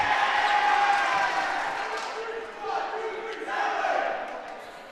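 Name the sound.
volleyball crowd cheering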